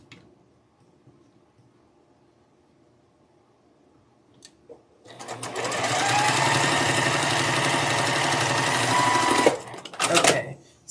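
A sewing machine straight-stitches quilt squares with smaller squares sewn into the corners: after a quiet start it whirs loudly and steadily for about four and a half seconds, stops, then gives a brief final burst.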